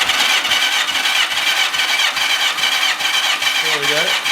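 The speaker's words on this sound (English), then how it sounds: "Full open throttle, crank the engine till the needle stops bumping up any further." A Yamaha XJ650 four-cylinder motorcycle engine cranks at full throttle during a compression test, giving a loud, steady, rhythmic chugging of compression pulses over the whine of the starter motor.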